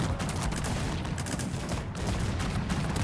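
Sustained roar of cannon grapeshot and musket volleys in a Cossacks 3 battle, thick overlapping crackle with booming low end holding steady for a few seconds, no speech over it.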